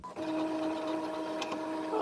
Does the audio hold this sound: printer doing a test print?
yes